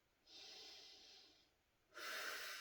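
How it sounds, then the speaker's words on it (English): Slow breaths during a yoga twist: a soft drawn-in breath, a pause, then a stronger exhale, close and quiet. "Breathing."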